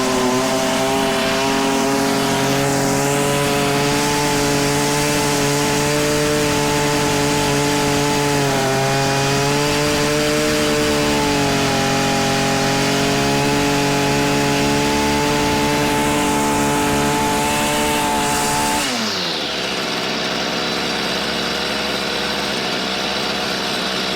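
A Stihl weed eater engine that runs badly buzzes loudly with the throttle held down, its high whine wavering and sagging before suddenly dropping off near the end.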